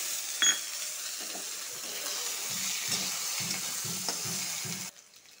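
Potatoes fry in hot oil with bay leaf, cloves, cardamom, cinnamon and cumin, giving a steady bright sizzle with soft utensil scrapes and taps, before the frying cuts off abruptly near the end.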